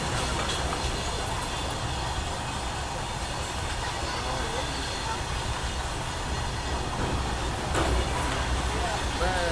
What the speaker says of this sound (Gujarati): સામે એક ટ્રેન મળી જાય ગુડ્સ ટ્રેન ક્રોસિંગમાં